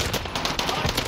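Rapid automatic gunfire rattles through a video game squad shootout, sounding as a dense, close burst of repeated shots throughout the brief moment.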